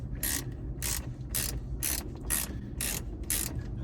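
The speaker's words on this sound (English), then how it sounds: "I got my trusty deep socket set. I use this for everything with an extension." A ratchet driving a 7mm deep socket on an extension, loosening a dash bolt on a Jeep Wrangler JK during radio removal: eight quick, even clicking bursts in a steady rhythm, close and clear, with no voices.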